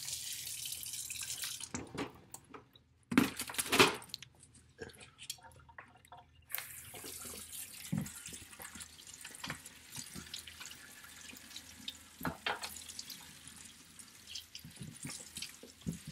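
Water runs from a tap for a final rinse. A soft, steady flow is broken by a few louder splashes and drips, fairly close and with no talking.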